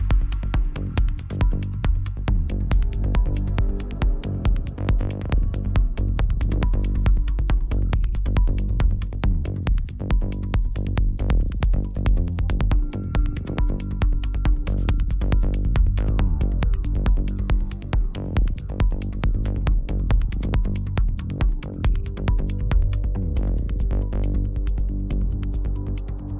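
A synthesized bass melody plays back continuously, with deep, steady low-end tones in a rhythmic pattern and slight filter movement. It sounds loud and close, with no one talking.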